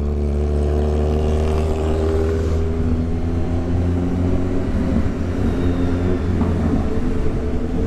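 A CFMOTO 450 MT motorcycle rides through congested city traffic, its engine droning loud and steady with layered harmonic hum and surrounding vehicle noise throughout.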